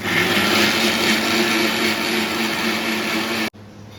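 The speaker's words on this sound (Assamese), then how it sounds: "সো গাইস এতিয়া পিয়াজখিনি গ্ৰাইণ্ড কৰি লওঁ" Onions are ground in an electric grinder, a loud, steady whirring motor drone that runs close and continuous, then cuts off abruptly near the end, leaving a faint background hum.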